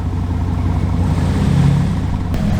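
Engine of a stuck 2023 Toyota Sequoia TRD Pro rumbling and revving off-road, a steady loud low drone that swells gently midway, with no talk.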